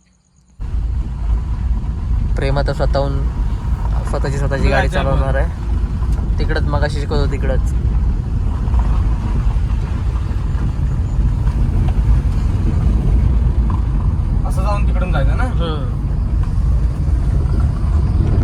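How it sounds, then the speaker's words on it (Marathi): A car being driven by a learner, a steady low engine and road rumble running continuously throughout, with people talking inside the cabin over it. "प्रेम आता स्वतःची गाडी चालवणार आहे."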